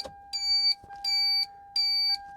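DIY 3D-printed loud turn signal flasher alarm beeping on a vehicle with the ignition on, three evenly spaced shrill electronic beeps over a faint steady tone.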